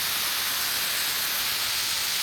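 Spray gun applying adhesive for a car headliner repair, a steady close hiss of atomised spray running evenly and unbroken throughout with no talking.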